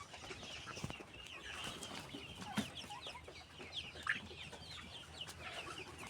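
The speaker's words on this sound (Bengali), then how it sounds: "মুরগি মুরগি আমি দেখাচ্ছি আপনাকে।" Chickens on a poultry farm cluck in soft, scattered bursts at a modest distance, with a few sharper calls standing out over a low background murmur.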